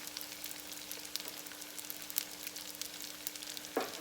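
Crab rangoon frying in hot oil: a steady, fairly quiet crackle and fizz with scattered sharper pops throughout, and a faint constant hum underneath. Nobody speaks.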